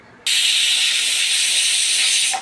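A pressure cooker lets out one long, loud, steady steam whistle that starts abruptly and holds for about two seconds before cutting off, cooking cabbage.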